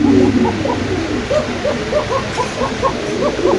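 Several pigeons, including Spanish, King and Mundian breeds, coo in soft, repeated low calls, overlapping steadily at close range with a murmur of background noise.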